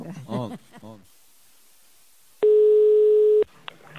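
A telephone ringback tone while a call is placed, a single steady electronic beep lasting about a second, loud and clear, following a stretch of speech and a short hiss of line noise.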